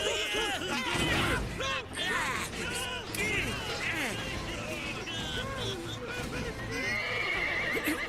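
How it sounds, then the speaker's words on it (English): Horses in an anime action scene neigh and whinny loudly over and over, with clip-clopping hooves and a busy, chaotic mix of noise throughout. "get them horses calmed down!"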